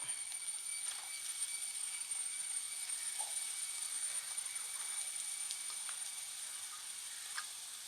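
Chopped papaya for a Kerala thoran sizzles in a hot pan as it goes in, giving a steady, fairly quiet frying hiss with faint crackles and no talk.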